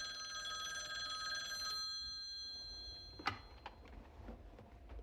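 An old telephone bell rings loudly for a couple of seconds and then cuts off, followed by the clatter of a handset being picked up and a few small knocks.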